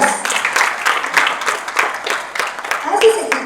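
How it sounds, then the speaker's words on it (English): An audience claps in a round of applause, fairly loud and close, with uneven bursts of clapping and some voices mixed in. "I think he deserves a big round of applause."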